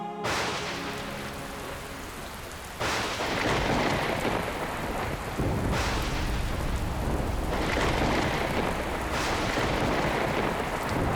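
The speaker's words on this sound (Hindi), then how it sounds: "ये वर्षा तो रुकने का नाम ही नहीं ले रही।" Heavy rain pours down in a dense, loud, steady hiss, swelling in intensity several times, with low rumbling underneath like distant thunder.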